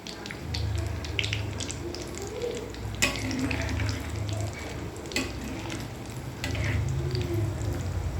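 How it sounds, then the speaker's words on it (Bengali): Food frying slowly in warm oil while being stirred and turned, a steady soft sizzle with scraping stir sounds and occasional clinks, no speech. "এই যে খুব আস্তে আস্তে ভাজা করতে হবে, উল্টে পাল্টে নেড়ে নেড়ে ভাজতে হবে"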